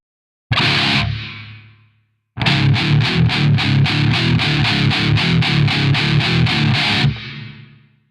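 Distorted electric guitar through a Mooer GE200 on a preset: one loud sustained chord, a pause, then a rapid run of evenly chugged palm-struck chords ending in a ringing decay.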